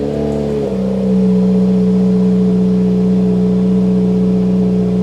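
A car engine cranks and catches, then settles into a loud, steady idle with a strong low hum, after a repair to fix an oil pressure gauge problem. It runs alone, with no talk.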